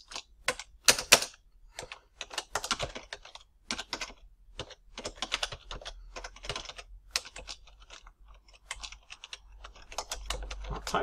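Close, fairly quiet typing on a computer keyboard, with irregular bursts of key clicks and brief pauses between them.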